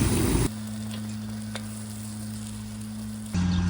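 Quesadillas, one barbecue and one Mexican chicken, frying in a pan at an autumn campsite: a steady, soft sizzle with a low hum running beneath it, and louder bursts of noise at the start and the end.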